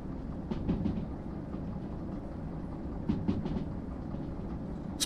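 Steady low rumble of a train running in the rail simulator game Derail Valley, with faint rhythmic clatter from the wheels and a few brief metallic clicks, continuous and fairly close, no voices.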